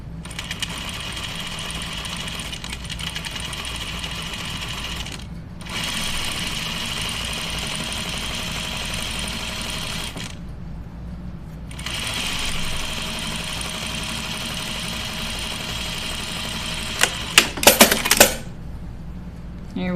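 A sewing machine stitches a knit dress tie in long, steady runs of continuous mechanical whirring, broken by a few short pauses and ending with some sharp clinks of handling.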